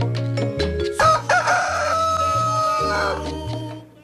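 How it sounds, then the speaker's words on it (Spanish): A rooster crows over a loud Latin cha-cha tune on a Venezuelan television broadcast, its call riding above the steady music bed and the bass line. "Canta el gallo acá en Venezolana de Televisión."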